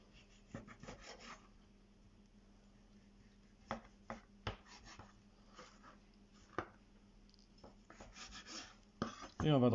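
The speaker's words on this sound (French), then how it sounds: "je vais découper mon maquis que je laissais au frais tout à l'heure" A knife slices through a chilled maquis dessert on the bias, giving soft scattered scraping strokes and light taps at close range, faint overall, with a louder clatter near the end.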